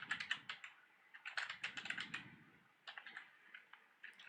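Rapid typing on a computer keyboard while editing a file in the nano text editor, bursts of quick key clicks with short pauses between, close and fairly quiet.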